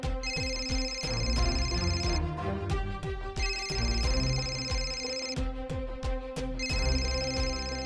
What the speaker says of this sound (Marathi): घ्या, तुमच्या बायकोचा फोन येतोय.